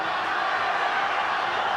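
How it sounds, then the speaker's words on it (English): Dense, steady roar of a boxing arena crowd cheering during round two of Erik Morales versus Marco Antonio Barrera, loud and continuous without letup. "The crowd is beside itself."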